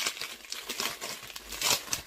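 A packaged jacket set being unwrapped, with continuous crinkling and rustling of plastic wrapping and brief tearing bursts, close and fairly quiet, with no voice.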